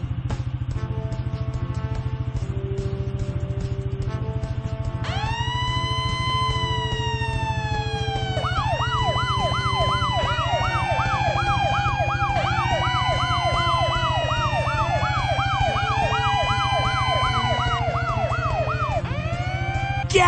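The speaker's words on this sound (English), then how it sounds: "Turn our sirens on and off." Fire truck sirens from a kids' fire truck video game, with several sweeping wails and yelps overlapping after a few seconds, looping continuously over a steady low engine-like drone.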